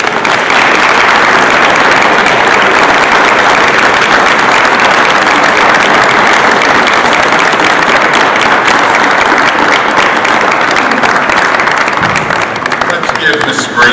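A large audience at a genealogy society event claps for someone speaker, a loud, sustained wash of many hands that holds steady throughout and thins slightly near the end.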